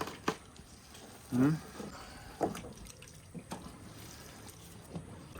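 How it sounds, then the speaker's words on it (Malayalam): Liquid fertilizer mixture stirred with a piece of wooden plank gives soft, faint sloshing and swishing of water, with one louder splashy surge early on and scattered gentle slops after it. "ഒരു പലക്കഷ്ണോ അല്ലെങ്കിൽ പട്ടിക കഷ്ണമൊക്കെ എടുത്തിട്ട് ഇതിനെ ഇളക്കി കൊടുക്കുക"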